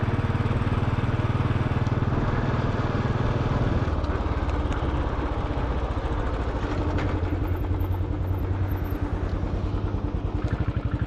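Steady engine drone of a Royal Enfield motorcycle being ridden near Magome-juku in Japan, a continuous low rumble throughout with no break, close and fairly loud.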